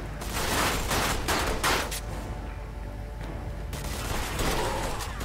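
Video game gunfire in Mafia 2, a headshot amid a loud, continuous wash of shots and rumbling booms that blur together, with a brief dip in the middle before the barrage swells again.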